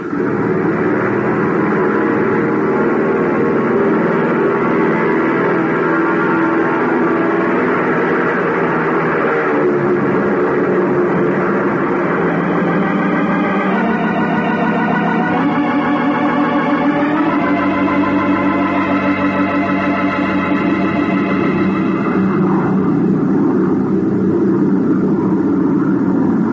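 Airplane taking off in a radio drama sound effect, a continuous loud engine roar with a rising, shifting pitch that builds and sustains throughout.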